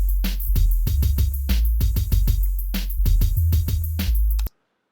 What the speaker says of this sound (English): beef up that snare drum a bit